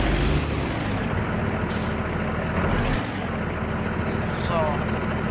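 A truck is driven into its parking spot beside another vehicle. A loud, continuous engine rumble carries on throughout, with a brief air-brake hiss early on and faint high beeps near the end.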